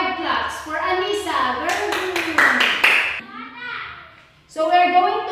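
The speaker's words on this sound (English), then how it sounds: "Let us give 5 claps for Anissa." A class of children claps five quick times in a row, the sharp claps loud and close amid children's voices that come before and after.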